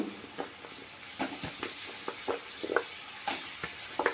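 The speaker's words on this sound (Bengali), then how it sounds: "এখন আমি আলুটা দিয়ে দেব" Potatoes are tossed into a pan of frying turmeric and oil, making a low sizzle broken by repeated close scrapes and clatters of stirring.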